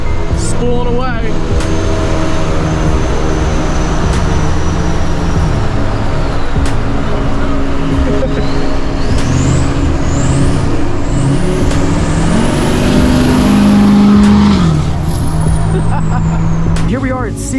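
A 500 hp widebody Duramax diesel truck cruising loudly, with a rising and falling turbo spool whine over a steady engine drone and road rumble, while a person talks over it.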